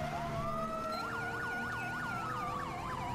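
Police car siren in GTA 5, a wailing tone sweeping up and down in repeated rapid cycles over a steady engine rumble, loud and close with no voices over it.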